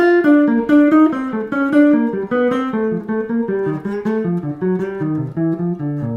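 A piano plays descending triads, each preceded by a half step below its first note, in a practice style; a clear, steady run of broken chord tones stepping downward, solo and close.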